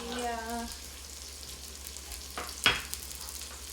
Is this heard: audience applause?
no